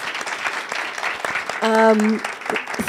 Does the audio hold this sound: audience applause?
yes